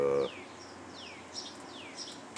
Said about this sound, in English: this little Sparrow dude